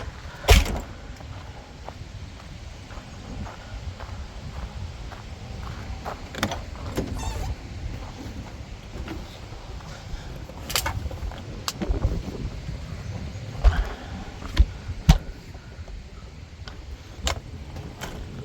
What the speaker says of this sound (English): You just slide it in right here, put it down, and then there's a handle on the inside, and you're gonna pull it down, and that locks it in place.